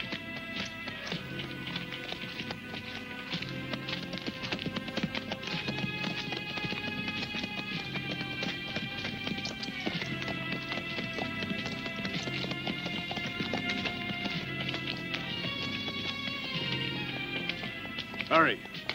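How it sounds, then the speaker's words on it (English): Horses' hooves clip-clop at a walking pace in a fantasy film scene, a soft, steady rhythm running under music and voices for the whole stretch. "Take the horses to the stable."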